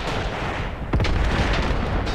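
A grenade blast goes off close by against a stuck Panzer IV tank in the WW2 strategy game Graviteam Tactics, one sharp boom rolling into a low rumble over steady battlefield noise.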